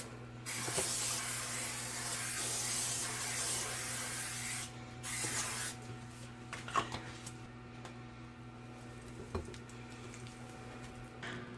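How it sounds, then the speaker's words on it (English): Cooking spray hisses steadily into a loaf pan for several seconds, a close, continuous burst that then stops, followed by quiet scattered kitchen taps. "I'm just going to go ahead and give these a spray because the berries will stick to the outside of your pan."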